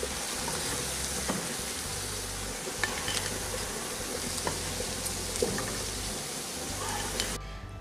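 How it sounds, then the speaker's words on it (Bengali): Bottle gourd leaf fritters made with ground lentil paste frying in oil, a soft continuous sizzle with light scrapes and occasional clinks, close by under a low background hum. "আর বাদবাকি বড়াগুলোকেও একই রকম ভাবে ভেজে নেব।"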